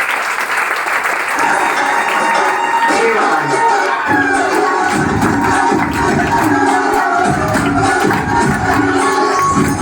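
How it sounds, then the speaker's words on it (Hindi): An audience at a closing event for leaders breaks into loud, sustained clapping that builds and carries on for about ten seconds, dense and close, with shuffling and a few scattered shouts mixed in. "मैं सभी लीडर्स के लिए एक बार जोरदार ताली होनी चाहिए।"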